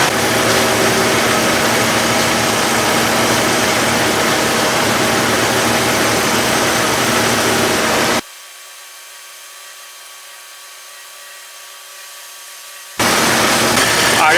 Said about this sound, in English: it's been idling for about 20 minutes now